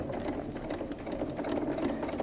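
A sewing machine stitches fabric at a slow, steady pace on a quarter-inch seam allowance, giving a continuous close whirring hum with a rapid rhythmic needle pulse and no talk over it.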